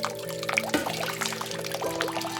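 Pineapple juice and pink lemonade mix being poured into a punch bowl, a steady close liquid pour with splashing and trickling over a faint background tone.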